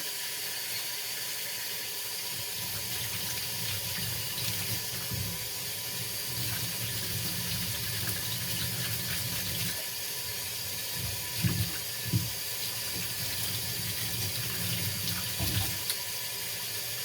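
Hot water pours steadily from a sink tap over freshly harvested purple carrots and golden beets, a continuous close splashing rush with a few brief thumps of vegetables being handled, no talking.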